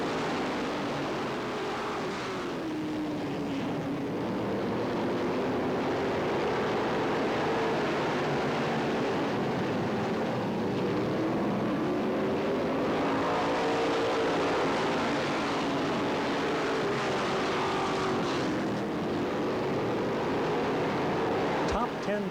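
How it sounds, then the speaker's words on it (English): A race car engine roars steadily through a 1992 track main event in an in-car ride-along, its pitch rising and falling with the laps under continuous commentary. "Let's ride along with Travis in one of his main events on his way to the 92 track championship."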